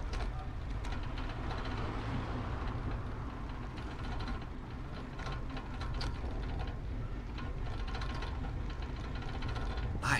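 Clunky, rattling bicycle ridden along a path, a steady loose clatter and knocking that carries continuously under a rumbling background, with a sharper rattle at the very end.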